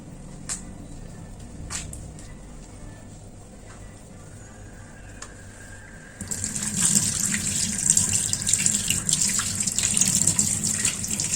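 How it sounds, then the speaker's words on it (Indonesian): A running tap, first as quiet trickles and small clinks, then a sudden strong gush of water as hands are washed beneath it, near and steady. "saya cuci tangan"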